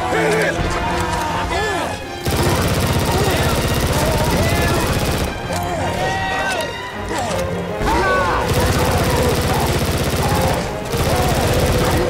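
Gunfire against zombies in the video game Left 4 Dead 2: dense, loud, near-continuous shooting with crashes and brief pauses, mixed with talk.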